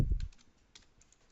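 Computer keyboard tapped for hotkeys while unwrapping UVs in Headus UV software, a sharp close thump followed by a few faint, quick key clicks.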